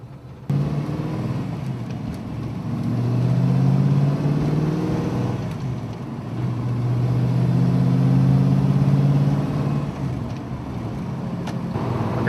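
A 1970 Ford Torino Fairlane 500 with a six-speed manual gearbox, its engine droning loud and steady from inside the car, climbing in pitch through one gear, dropping briefly at a shift, then rising again.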